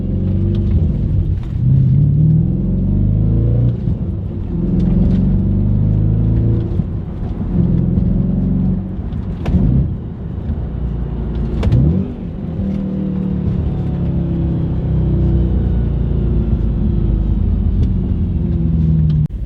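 An Audi B7 RS4 drives along, its engine rumbling and revving up, then dropping as gears shift, the rise and fall repeating over a steady loud road drone, heard from inside the car.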